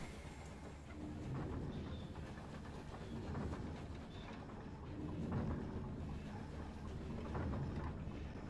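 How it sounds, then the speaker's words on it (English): A train rumbles steadily in the Night in the Woods video game, a low continuous rolling clatter at a distance, faint and unbroken across the clip. "It kind of looks like we're on top of a train because of those windows down there."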